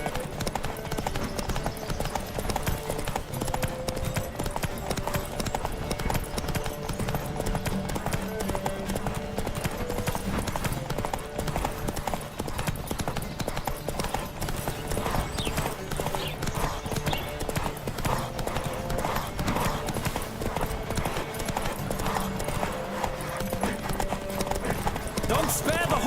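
Galloping horse hooves in a Witcher 3 race, a steady fast clip-clop running continuously under dense game music and sound effects, with occasional whinnies and shouting voices mixed in throughout.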